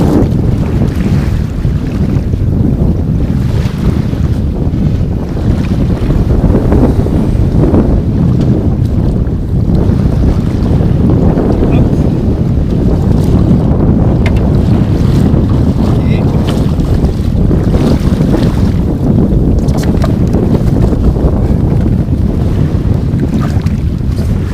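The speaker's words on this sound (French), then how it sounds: "Le vent s'est un petit peu levé" Strong wind buffets the microphone on the Greenland coast, a loud continuous roar with gusting surges and a low rumble mixed with water and waves, no voices over it.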